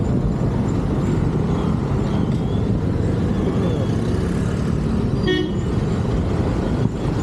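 Busy city street traffic in Coimbatore heard during a motorbike ride: a dense, loud, continuous rumble of engines and road noise, with a brief horn toot and some faint voices.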